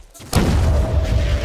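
A rocket blast in Half-Life 2 Deathmatch, a sudden loud boom with a rumbling tail that lingers and holds steady over a low game hum.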